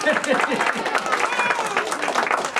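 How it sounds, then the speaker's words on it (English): Children's audience at a kids' care-and-share show clapping and cheering for a pet dog, a dense steady patter of hands with excited voices mixed in throughout. "Everybody clap and go, yay!"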